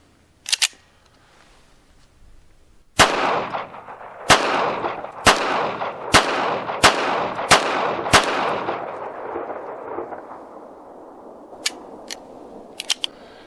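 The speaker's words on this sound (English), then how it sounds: "let's try 7 rounds of the CCI aluminum cased ammo" Small blowback pocket pistol firing seven rounds of CCI aluminum-cased ammunition, seven sharp loud shots in a quick, slightly uneven series with ringing decay, followed by faint mechanical clicks.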